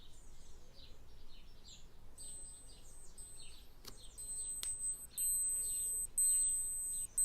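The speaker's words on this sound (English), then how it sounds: "So that's the reminder feature, or the alarm feature." Alarm of a Seiko Flightmaster SNA411 watch: a run of thin, high electronic beeps in short, evenly repeating bursts that grow slightly louder, heard close up in a quiet room with faint chirping in the background.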